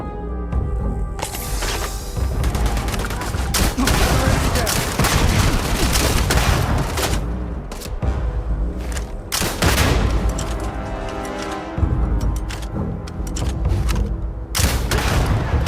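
Rapid, loud bursts of gunfire and booming blasts in the video game Starfield, near-continuous volleys with short gaps, overlapping excited shouting voices.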